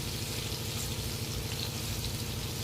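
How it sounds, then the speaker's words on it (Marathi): Pieces of bitter gourd sizzle steadily in oil in a pan, an even, close crackle with no distinct turns heard and no talk. "आता पलटी मारायचे आपल्याला हे कारले."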